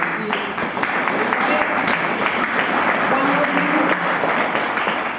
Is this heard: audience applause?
yes